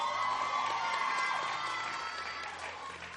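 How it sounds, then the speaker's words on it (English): Crowd applause and cheering at a university pageant coronation night, a loud dense wash of clapping and shouts that fades slightly toward the end. "A round of applause."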